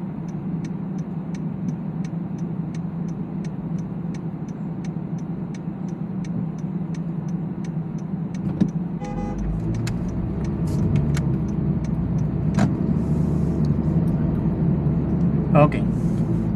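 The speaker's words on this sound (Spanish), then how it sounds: "venían carros tras carro tras carro" Cars pass one after another on a busy road in San Juan, Puerto Rico, a steady traffic rumble heard from inside a vehicle while people talk.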